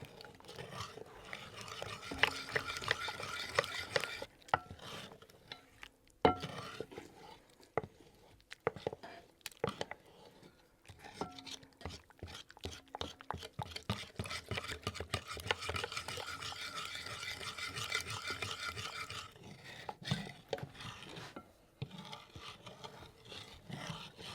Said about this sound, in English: This one for stirring up everything, and this one also helps to mix it up